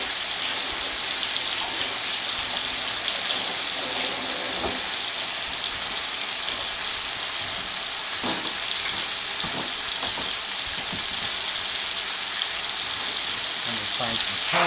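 Cinnamon apple pork chops fry in a pan with a loud, steady, close sizzle that never lets up, broken by occasional soft knocks and shifts of the meat.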